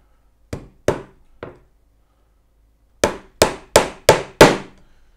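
A hammer drives small round-head inch nails into a wooden National beehive roof. Three sharp, separate taps come first, then a pause, then a quicker run of five louder strikes, each with a short ringing decay, close by and with no talk.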